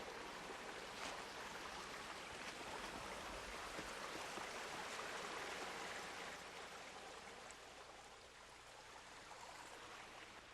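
A small creek flows toward a swallow hole where it goes underground in Devil's Mill Hopper, Alachua County, giving a steady, soft, continuous babble and trickle of water with no voices.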